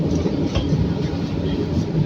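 A steady low rumble and rattle of a tram in motion, continuous and fairly loud, with faint murmuring voices underneath.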